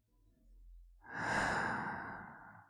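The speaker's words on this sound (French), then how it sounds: "La respiration peut changer." A single slow, soft breath during a guided relaxation exercise, a quiet inhale swelling into a long audible exhale, close and isolated with no talking.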